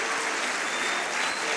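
A dense burst of crowd applause at a professional savate bout in Arpajon as the fighter Mohamed Diaby stands, steady and close, filling the whole moment.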